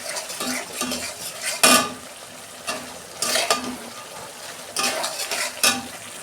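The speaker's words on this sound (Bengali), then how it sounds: "মশলাটা আমি 2 মিনিট কষে নেব।" A mustard, poppy seed and green chili spice paste for hilsa fish sautés in a pan, with a steady low sizzle and repeated scraping, clattering strokes of a spoon at irregular intervals, and no talking.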